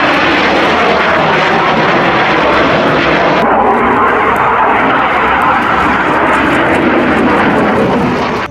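A Yak-130 single-engine jet trainer roars loud and steady throughout, a broad continuous engine rush that holds near and constant for the whole stretch, with no voices over it.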